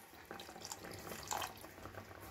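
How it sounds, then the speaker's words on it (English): Water poured from a tap-like stream into eggplant curry masala in a pan, a steady splashing pour lasting about two seconds, moderately quiet with no talking. "So we'll add little water."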